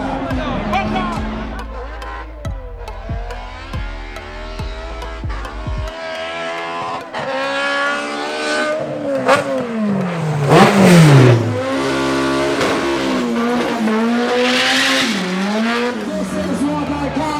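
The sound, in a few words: drag racing cars accelerating down the strip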